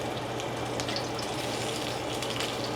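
Bacon frying steadily in a hot pan, a continuous close sizzle and crackle with no voices over it.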